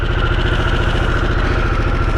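A 2021 Harley-Davidson Sportster S engine runs loud and close in neutral, holding a steady, throbbing rumble at a raised idle for a couple of seconds with no voices.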